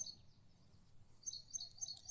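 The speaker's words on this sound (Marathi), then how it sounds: "चिमण्यांचे आवाज कसे येते नाही का." Small birds chirp in a village, sparrows among them, with repeated short high calls that come in bursts toward the end over a faint background hum, fairly distant and quiet.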